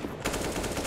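Rapid automatic gunfire in a professional CS:GO match on Vertigo, a dense continuous burst of shots starting sharply and running to the end.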